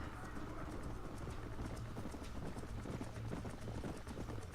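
Horse hooves gallop in the Red Dead Redemption video game, a rapid, continuous clip-clop at moderate distance with steady movement noise beneath and no talk.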